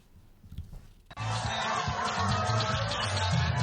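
A large crowd at a political rally in Djakotomé, Benin, erupts into loud, sustained cheering and chatter after a quieter moment, a dense wall of voices close and continuous to the end.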